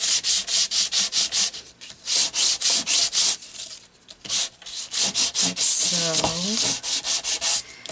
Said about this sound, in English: So we can most definitely sand this down a little.